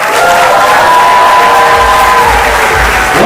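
Wedding reception crowd for a bride and groom cheering, whooping and clapping together in a loud, continuous roar that holds steady throughout, with scattered shouts rising above the dense applause.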